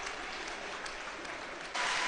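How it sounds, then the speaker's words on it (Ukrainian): Fans of both teams applaud at a futsal match, a steady wash of clapping from a crowd that swells louder near the end. "Аплодує також е, вболівальники обох команд"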